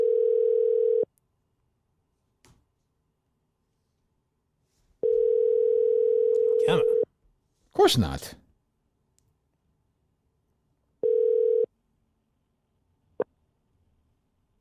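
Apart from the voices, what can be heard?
telephone ringing on an outgoing call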